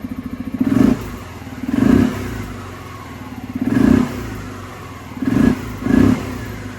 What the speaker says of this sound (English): Holy crap, it sounds like a brand new motorcycle.